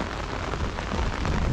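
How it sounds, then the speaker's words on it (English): Steady, dense rain falling on a small inshore fishing boat out at sea, a loud continuous patter with no voices. "Rain's back in again, people"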